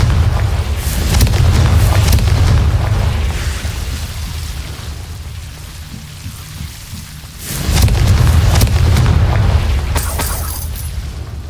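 Two deep rumbling fire-spell blasts in a Hogwarts Legacy game world, each a loud boom that rolls on and slowly fades, separated by a quieter stretch of ambient noise.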